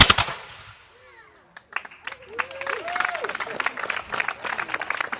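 Guns fired on command at a small-town Vermont Fourth of July celebration, a ragged crackling volley heard from a distance amid crowd noise, whistles and birds, with a brief loud burst at the start.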